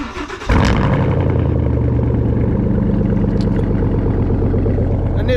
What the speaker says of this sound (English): Wanted to give you guys a cold start here, see if we got a loud punch one